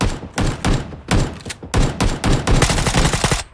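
Gunfire in the PUBG video game, played on an Xbox Series S, comes as loud, close bursts of rapid shots broken by short pauses across the stretch.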